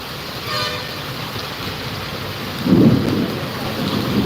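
Steady rain hisses throughout during a windstorm in Amreli, and a low rumble of thunder swells partway through before fading back into the downpour.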